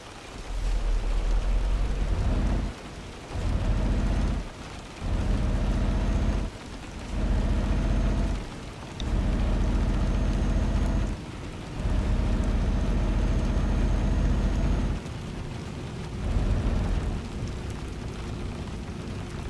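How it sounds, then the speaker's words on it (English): Heavy rain in Euro Truck Simulator 2, heard from a truck cab as a dense, loud steady roar that cuts out abruptly and returns several times in uneven blocks, with no talking. "Like it's gonna rain on us the whole way."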